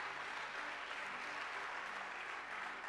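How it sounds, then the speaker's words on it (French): A church congregation applauds steadily, a dense, even wash of clapping that holds at a constant level throughout with no voices standing out. "Acclamez Jésus-Christ."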